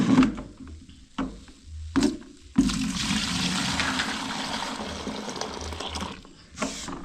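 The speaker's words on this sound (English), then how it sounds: "want to put this water into 2 buckets" Water pours and splashes into two buckets in a house, coming in several short gushes and then one long steady stream that fades away, with a final splash at the end. No voices.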